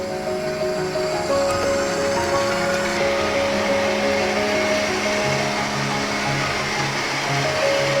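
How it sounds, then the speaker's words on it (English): Electric whisk beating eggs and sugar into an airy, creamy cake mixture for a gluten- and dairy-free chocolate cake, a loud steady motor whir held throughout with no speech. "I'm going to whisk those together till they form a really, really aerated, sort of creamy mixture"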